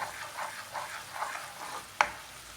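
Chicken Thai basil sauce simmers and bubbles quietly in a pan, a soft, fluttering sizzle with gentle stirring pulses and one sharp utensil tap near the end.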